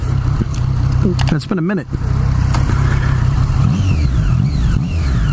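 Motorcycle engine running steadily while riding, close and loud, with someone talking over it throughout and a brief dip in the engine noise partway through.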